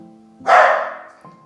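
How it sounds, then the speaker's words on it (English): A single close, sharp dog bark at snow rings out once, set against a steady low hum. "buddy's barking at snow"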